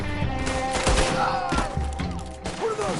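Game gunfire rings out in a dense mixed scene, with sharp shots and thuds at around one and one and a half seconds over steady background game noise, in a third-person action game set in high country.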